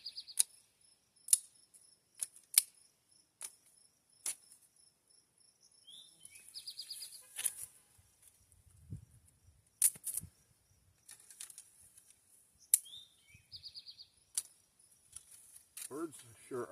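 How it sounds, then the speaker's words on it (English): Birds outdoors near a tarp tent, giving sharp, high chirps and short trills scattered across the clip, faint and intermittent, with a low murmur of voice in the middle. "Birds sure are chirping"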